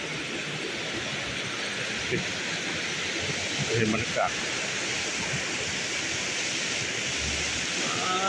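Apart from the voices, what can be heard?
waterfall behind resort bungalow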